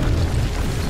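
Teapot cannon blast in the Alice Madness Returns video game, a single short, loud, deep boom with no voices.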